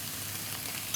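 Vegetables fry with red chili in a pan, a steady soft sizzle and hiss running the whole time with a brief clink near the end.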